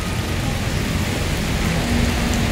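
Heavy rain pours down beneath a flyover as a storm passes, making a loud, unbroken wash of hiss close by with a low rumble underneath. No one speaks.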